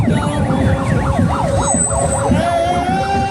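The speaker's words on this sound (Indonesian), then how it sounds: "Koordinator sudah membunyikan sirine tandanya untuk mempersiapkan diri." A wailing siren at an Eid al-Fitr takbiran parade, rising and falling in quick repeated sweeps, loud and close, over a low rumbling engine.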